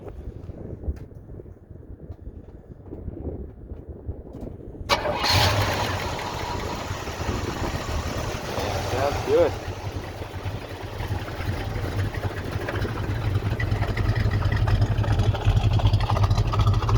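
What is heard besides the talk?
car engine starting and idling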